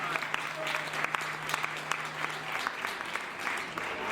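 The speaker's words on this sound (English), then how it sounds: "You deserve some big rounds of applause." A crowd at a college campus renovation ribbon-cutting applauds the Ivy Tech Lake County team, with steady moderate clapping from a mid-sized indoor audience, a few sharper claps standing out.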